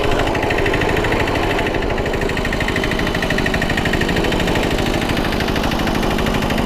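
A Taikyoku vehicle imported from Japan, in original condition with tight engine and 70 cm wheels, runs its engine continuously in a loud, steady, close pulsing rumble with no pauses.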